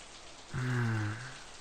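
Steady falling rain hisses softly throughout, with a brief droning tone that swells and fades in the middle.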